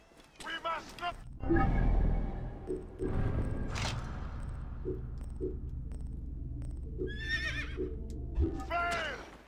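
A horse neighs and whinnies in the video game Assassin's Creed Origins, with shrill calls near the start and again toward the end alongside hoof clops and game sounds, while someone talks over parts of it.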